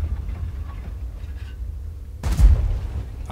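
A single IS-7 heavy tank cannon shot ricochets in World of Tanks: a sudden loud boom after a quiet stretch, trailing off into a rumbling decay.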